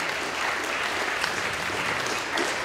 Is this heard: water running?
no